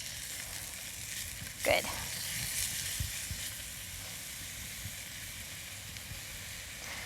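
Mushrooms brown in a hot pan with a steady, close sizzle and crackle, broken once by a brief clatter; a voice speaks briefly over the frying.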